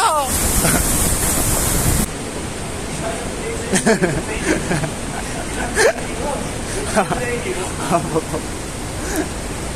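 Roaring rush of water from the fifth waterfall along a hiking trail, a loud broadband wash with gusting wind buffeting the microphone and brief bursts of voices over the top.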